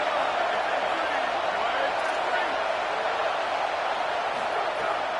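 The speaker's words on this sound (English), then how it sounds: "This crowd bringing the energy and noise early." A stadium crowd at a football game keeps up a loud, continuous roar and murmur from all around, with commentators talking over it.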